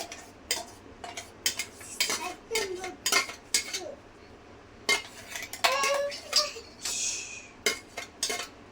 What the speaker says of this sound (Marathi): आता मी पुन्हा हा याच्यावरती स्ट्रेन करणार आहे